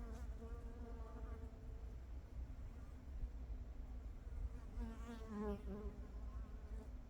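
Korean native honeybees buzz steadily around a square wooden hive in early spring, a continuous close insect drone with slight swells in pitch, no talking.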